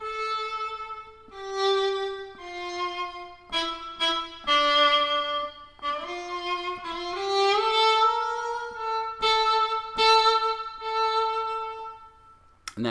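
Synth string patch covering violin, viola, cello and bass played on an Xkey keyboard: a melodic run of sustained notes with sharp attacks, steady and clear throughout, no voices.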